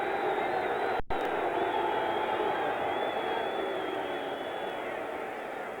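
A restless football stadium crowd at a 1977 Rams versus Saints game makes a steady, distant roar of murmuring voices. The noise holds level throughout, broken only by one brief dropout.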